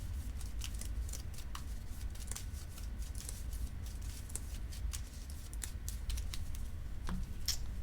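Cards being shuffled into a deck during a Keyforge tabletop match, giving a steady papery riffle with quick clicking flicks throughout, close and alone with no talk.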